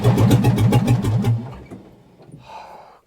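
A 1978 backhoe's diesel engine, started for the first time in years, cranks with a rapid loud rhythmic chugging, then fades and dies away after about a second and a half, leaving quiet rustling.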